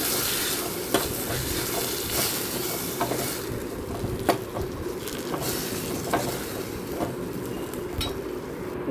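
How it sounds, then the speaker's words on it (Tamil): Spice paste with curry leaves sautéing gently over a low flame in a pan for a mutton bone rasam, a steady soft sizzle with scraping stirs and occasional light clinks of a spoon against the pot. "சேர்த்து அது லோ ஃப்ளேம்லேயே லைட்டாக வதக்கிருக்கேன்."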